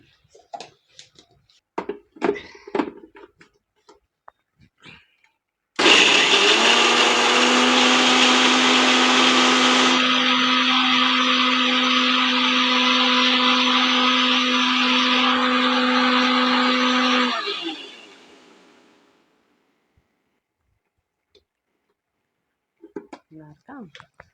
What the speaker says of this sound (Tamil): இதை கொஞ்சம் பேஸ்ட்டாக அரைச்சி எடுத்துட்டு